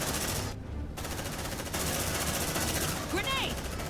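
Sustained suppressing gunfire in the sci-fi squad game Aliens: Dark Descent: rapid automatic bursts roar loudly and continuously, with a short break early on, while a soldier's voice shouts over the shooting near the end.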